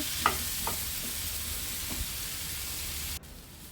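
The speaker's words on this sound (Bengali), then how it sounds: "নেড়ে চেড়ে নেব আপেলগুলো একটু নরম হওয়া পর্যন্ত অপেক্ষা করতে হবে ভালোভাবে নুন হলুদটা মিশিয়ে" Apples for a sweet-sour-spicy chutney are stirred in a pan with salt and turmeric: a few spatula scrapes and taps over a faint, steady sizzle, quiet and close, with no voices.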